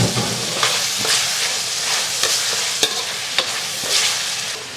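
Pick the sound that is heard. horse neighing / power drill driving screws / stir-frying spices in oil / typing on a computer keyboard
stir-frying spices in oil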